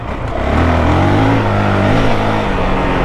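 A 2023 Honda CRF450X dirt bike fitted with a thermostat delete kit revs hard while being ridden, its engine note climbing and holding loud and close with no talking.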